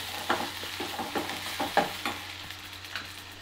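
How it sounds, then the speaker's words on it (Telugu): Egg pulusu base frying in a pan with ginger-garlic paste, a soft continuous sizzle with quick scraping spatula stirs spaced through it, fairly faint and close, without speech. "మంచిగా ఫ్రై కావాలి, బాగా ఫ్రై, మంచిగా నీట్గా ఫ్రై కావాలి."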